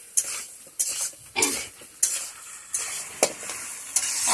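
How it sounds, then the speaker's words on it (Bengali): Spices and masala fry hard in a pan, loud hissing sizzle broken by regular scraping spoon strokes roughly every half second as the mixture is stirred and mixed. "এখন এটা খুব ভালো করে কষাবো"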